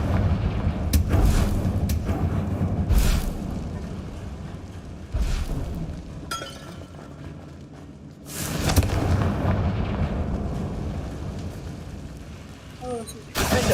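Repeated spell explosions in the Hogwarts Legacy video game, a series of booming, blasting bursts over busy combat sound, with a voice talking over the action.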